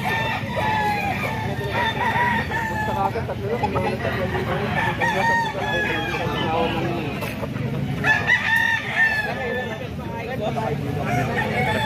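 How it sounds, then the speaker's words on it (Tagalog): Roosters crow repeatedly amid clucking chickens in a busy, noisy yard of gamefowl, with a voice talking underneath the birds. "Libo yan, mga ka-idol. Manok ni Bustoni."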